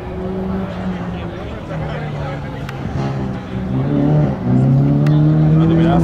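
A rally car brakes hard during stage TC6 Kardromo Lucas Guerrero of the 2018 Rallye Ciudad de Valencia. The engine note drops and rises, with a brief tire squeal, close and loud, while spectators talk over it.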